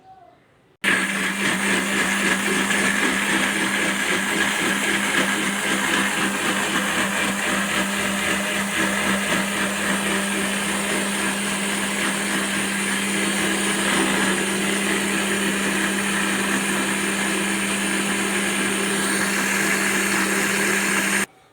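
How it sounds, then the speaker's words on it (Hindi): A mixer grinder blends mango with milk into a thick juice, a loud steady motor whine with a constant hum that starts abruptly and runs unbroken for about twenty seconds before cutting off, close up and alone. "ग्राइंडर को हम ऑन करेंगे।"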